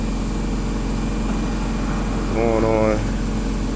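A car engine idles in a low, steady hum with a constant rumble throughout, and a person speaks briefly over it; the check engine light is blinking.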